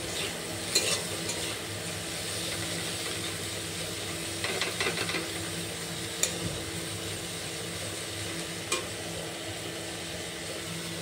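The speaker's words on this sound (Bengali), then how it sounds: "একটু শুটকি মাছ ভাজা করছি, পেঁয়াজ রসুন লঙ্কা দিয়ে আর হালকা হলুদ লবণ দিয়ে ভাজা করছি" Dried fish fry in a pan with onion, garlic, chili, turmeric and salt, giving a steady soft sizzle with occasional stirring scrapes and clinks across the whole stretch.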